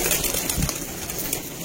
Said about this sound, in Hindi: देखो दोस्तों शेखां वाले लाल परी कबूतर